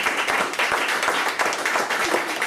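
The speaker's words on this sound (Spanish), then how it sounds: "démosle un aplauso al Señor en esta noche" A church congregation applauding together, a dense, steady burst of many hands clapping in a reverberant hall, with no voice over it.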